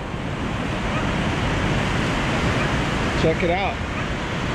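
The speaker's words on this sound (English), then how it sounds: "look at the surf, it's great. And there's people out there surfing today. There's some good sized waves." Ocean surf of waves about four to six feet on a coastline, a broad constant roar mixed with wind buffeting the microphone, and someone briefly speaking over it near the end.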